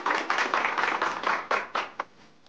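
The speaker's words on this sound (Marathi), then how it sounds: "टाळ्या" Studio audience clapping on a Marathi TV quiz show: a burst of brisk applause that thins out and ends with a few last distinct claps, fairly close and clear with no talk.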